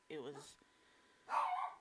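Dogs bark indoors in two short bursts, moderately close, with the speaker's voice heard around them.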